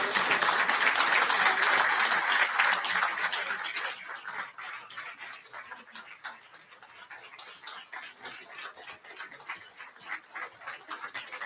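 Audience applause at an inaugural luncheon for a general president, greeting Congressman Gregory Meeks: dense, loud clapping for about four seconds, then thinning into scattered, quieter claps that continue to the end.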